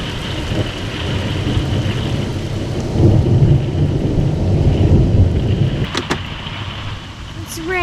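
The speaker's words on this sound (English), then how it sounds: "It's raining." Steady rain pours beside Lake Superior during a thunderstorm, with a low rolling rumble of thunder swelling midway through, close and loud, and a few brief voices heard under the downpour.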